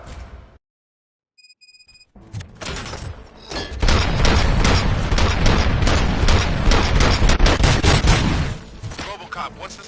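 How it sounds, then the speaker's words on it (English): Gunfire from the Robocop film: after a short near-silent gap with a faint electronic beep, sustained bursts of loud automatic shots erupt, hammering in rapid, uneven volleys that swell and then ease off toward the end. "Gunshots?"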